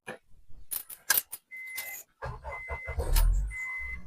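Clicks and rattles of handling, then a car engine cranks and catches with the MAF sensor disconnected, settling into a low rumble with a faint whine, close by.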